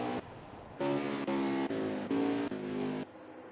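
Race cars on the road course at Canadian Tire Motorsport Park in a CFRL Cup Series race, a loud harmonic engine note rising and shifting in several bursts as a car passes close by, with commentary voices underneath.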